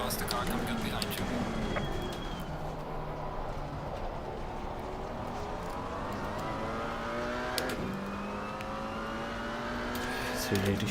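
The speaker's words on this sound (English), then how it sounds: "Faster car coming up behind you." A McLaren 570S engine drones at Imola in a multiclass race in the Assetto Corsa Competizione game, as a faster car closes in from behind. Engine pitch rises and falls through gear changes, loud and continuous, with a faint voice beneath.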